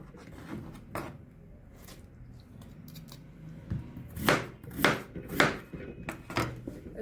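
Boiled sweet potatoes are chopped on a board, scattered quiet knife taps at first, then a run of louder, closer chops, irregular and spaced apart.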